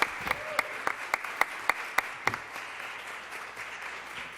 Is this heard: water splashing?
no